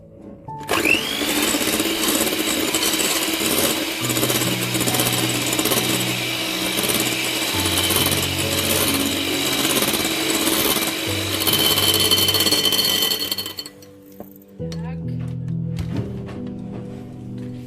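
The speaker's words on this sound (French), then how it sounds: "On va mélanger la vanille avec la pâte." Electric mixer whirring steadily as vanilla is blended into cake batter for a chocolate roll, a loud continuous motor drone that cuts out near the end, followed by quieter kitchen handling.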